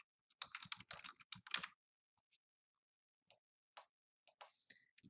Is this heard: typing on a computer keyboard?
yes